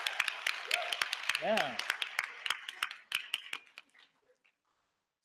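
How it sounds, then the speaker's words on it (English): Audience applause rings out in a hall as thanks to a corporate sponsor at an awards event, a burst of many hands clapping that thins out and fades over several seconds, with a short spoken word early on. "I'd like to ask for a round of applause for Staples for their very generous support"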